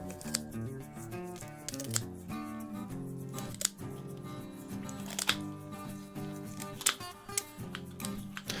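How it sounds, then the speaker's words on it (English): Kitchen shears cutting along either side of a chicken's backbone, a series of close, sharp snips and crunches at an irregular rhythm over soft background music. "grab your kitchen shears, and we're going to begin at the back end, and we're just going to cut along either side of the backbone"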